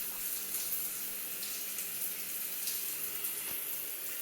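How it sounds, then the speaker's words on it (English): Cold water running from a shower aboard a boat, a steady faucet-like rush of water filling the space at moderate level, with a few faint knocks and splashes and no one speaking. "I actually turned the shower on to cold water by mistake"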